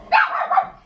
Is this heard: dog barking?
yes